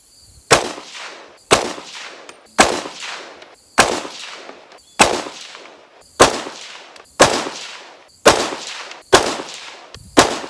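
A 6.5 Grendel rifle fires Hornady A-Max match ammunition in nine evenly spaced loud shots, each a sharp crack followed by a decaying outdoor echo, with no talking between them.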